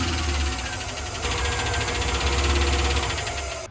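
A damaged 5.3 V8 engine runs with a rapid, relentless metallic tapping and knocking over a steady engine drone, moderately loud and continuous throughout.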